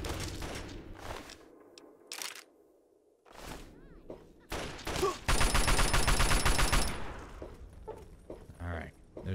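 An automated turret firing in Fallout 3, with bursts of rapid gunfire coming in clusters, one sustained loud volley in the middle, and a voice talking over parts of it.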